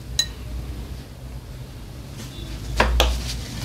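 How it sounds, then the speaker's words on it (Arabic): A spoon clinks and scrapes against a small bowl while stirring a homemade olive oil tooth remedy, producing a few sharp close taps over soft low rumbling, with no one speaking. "هبدأ اقلب بقى الوصفة بتاعتي مع بعضها بالشكل ده"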